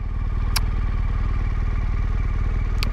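A motorcycle engine thrums steadily while riding, a loud close pulsing rumble with constant wind noise and two brief sharp clicks, no talk.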